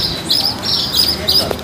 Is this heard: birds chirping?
yes